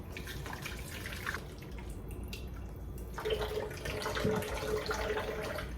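Fresh watermelon juice poured through a strainer into a container, a close trickling and splashing liquid stream that thins to drips and then pours again more heavily.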